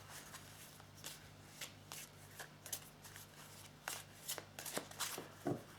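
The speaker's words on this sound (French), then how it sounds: "On va prendre encore 4 cartes pour en savoir un peu plus." Tarot cards being shuffled by hand during a French card reading, a series of soft riffling and slapping bursts at a steady, uneven pace, close and fairly quiet with no talk.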